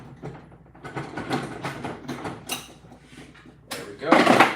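Metallic clicks and scrapes of needle-nose pliers working a C-clip snap ring off a part on a Honda Integra in a garage at night, several short close clatters ending in a louder sharp snap.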